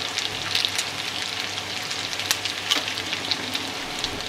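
Mutton namkeen karahi gosht sizzles in a pan, a continuous crackling hiss dotted with sharp pops and spatters, close and moderately loud.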